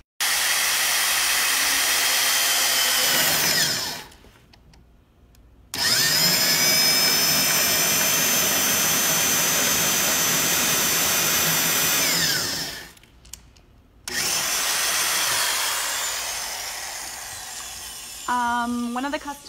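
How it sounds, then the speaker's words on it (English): A powerful half-inch single-speed electric drill whines steadily as it bores into a log, stopping twice briefly before starting again; a short voice is heard near the end. "We recommend a 1/2-inch single speed drill."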